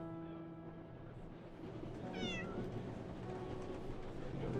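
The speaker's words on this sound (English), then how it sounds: "That's just a completely normal cat that doesn't blink." A cat in the video game 11-11 Memories Retold gives a single short, rising meow midway, fairly faint over a steady ambient background hum.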